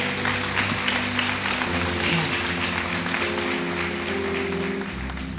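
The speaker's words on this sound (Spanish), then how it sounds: "Aplaude al Señor entonces, por favor." A church congregation applauds in a dense, continuous stretch of clapping at steady volume, with sustained low musical tones underneath and no clear speech.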